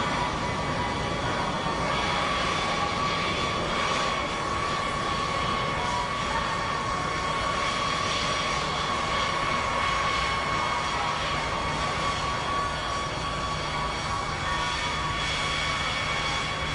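Jet engines of a Boeing B-52 Stratofortress running steadily on the ground before taxi, a constant loud roar with a sustained whine, unbroken and unchanging from start to finish, with no voices.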